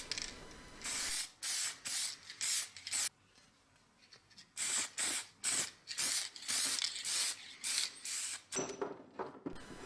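Clear coat lacquer sprayed onto a restored chain axe in repeated short hissing bursts, each about a second long with brief pauses, close and fairly loud with no talk.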